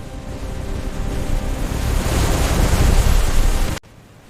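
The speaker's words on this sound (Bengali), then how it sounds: "বিশাল সমুদ্র সামনে" Ocean surf washes onto a seashore as a steady, broad roar that slowly builds in loudness, with no voices, then cuts off abruptly near the end.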